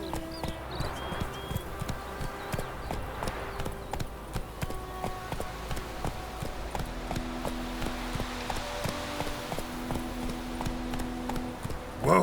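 Horse hooves of Geralt's horse Roach in The Witcher 3 video game, a steady clip-clop rhythm of hoofbeats on the ground continuing throughout at moderate loudness, no talk.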